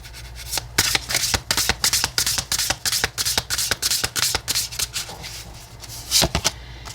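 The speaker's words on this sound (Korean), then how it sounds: "먼저 테마 카드를 3장 뽑아보도록 할게요." Tarot cards shuffled and drawn by hand, a steady run of close, crisp riffling and slapping card sounds with sharp repeated bursts, alone without talk.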